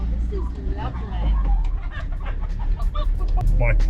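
Chickens cluck in a rural Korean countryside setting, short calls scattered over steady background noise, with people talking nearby.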